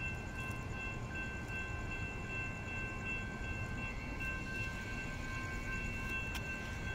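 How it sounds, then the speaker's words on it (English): A train passes the Cooper Road crossing in Gilbert, Arizona, a steady, fairly distant rumble of rolling railcars that holds at an even level throughout, with no voices. "There's the train."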